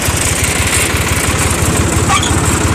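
A Ford tractor engine running while a rural plot is being cleared, a loud, steady low chugging throb close by throughout, with no voices.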